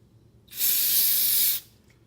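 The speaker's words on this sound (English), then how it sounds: "I just use some gun scrubber" A single steady burst of aerosol gun scrubber cleaner onto a rag for cleaning a Charles Daly shotgun, about a second long, a loud broad hiss with abrupt start and stop, against a quiet background.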